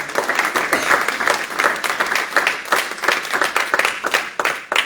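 A church congregation applauding after a teaching meeting, with dense, steady hand clapping from many people throughout and a hint of voices mixed in.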